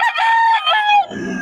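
A Sweater gamefowl rooster crows loud and close in one strained, harmonic call that breaks off into a rough fading rasp.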